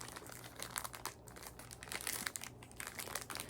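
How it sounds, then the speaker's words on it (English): Close, quiet crinkling of a plastic bag of Nerf foam darts, rustling and crackling in quick irregular bursts for a few seconds. "Why am I struggling with a plastic bag of Nerf darts?"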